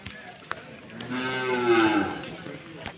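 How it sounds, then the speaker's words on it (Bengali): A native bull on a cattle farm lets out one long, loud, close moo that swells in the middle and fades, with a few soft knocks around it. "এগুলা কিন্তু দেশি ষাঁড় গরু"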